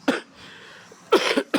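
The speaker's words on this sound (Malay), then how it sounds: "Batuk pula tuan-tuan." During an Islamic religious lecture, a man coughs close to the microphone: a harsh cough, a pause with faint room noise, then two more quick coughs.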